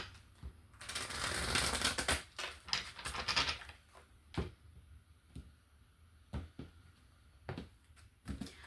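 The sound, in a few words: tarot card deck being shuffled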